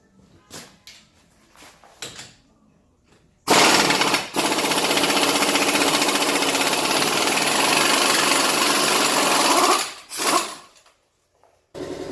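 An impact gun with a 30 mm socket rattles hard against a nut on a Toyota Echo/Yaris during clutch work, one loud sustained burst of about six seconds between quieter clicks and a short second burst.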